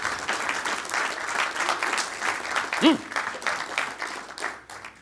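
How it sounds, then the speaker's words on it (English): An audience at a personal style leadership talk gives a round of applause: sustained, fairly loud group clapping with a brief cheer or voice rising in the middle. "Give yourselves a round of applause. Clap it up, make some noise."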